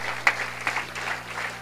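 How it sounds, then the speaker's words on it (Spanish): Congregation clapping during a Spanish-language church service, a brief burst of applause with a few sharper claps standing out, moderately faint against a low steady hum in the room. "Un aplauso al Señor."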